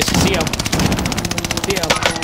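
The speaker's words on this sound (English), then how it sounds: "Now an airstrike over there because you know he's over there" Airstrike in a shooter video game, a dense, rapid burst of loud explosive rattling fire that runs continuously and close.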